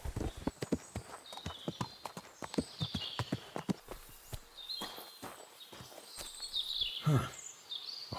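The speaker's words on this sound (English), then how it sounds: "A horse?" Horse hooves clip-clopping in the medieval woods of Kingdom Come: Deliverance II, a brisk run of close, sharp hoofbeats that slows and thins out, with faint birdsong in the background.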